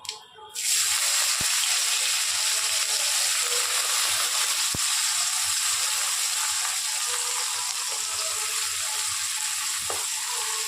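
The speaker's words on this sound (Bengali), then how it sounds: "এবার আমি একটুখানি গোটা সাদা জিরে ফোড়ন দিচ্ছি পেঁয়াজ কুচিগুলো দিয়ে দিচ্ছি" Whole white cumin seeds and chopped onions hit hot oil in a pan and burst into a loud, steady sizzle that holds for about ten seconds, close up, with no talking.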